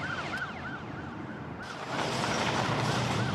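An approaching ambulance siren yelps in quick repeated cycles, fairly faint behind a broad rushing road or engine noise that grows louder halfway through, with no talking.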